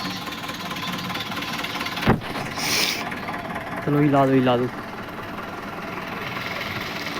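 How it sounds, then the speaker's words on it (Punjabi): A tractor engine idles outdoors beside a cut mustard crop, giving a steady low rumble throughout, with a sharp knock near the start and a brief burst of talk partway through. "ਟਰੈਕਟਰ ਆਪਣਾ ਆ ਗਿਆ ਦੇਖੋ ਜੀ"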